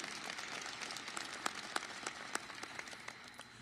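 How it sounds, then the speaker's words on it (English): An audience at an Illinois state budget signing applauds softly, a fairly distant wash of clapping with occasional sharper claps standing out, fading slightly toward the end. "Now, that deserves a round of applause."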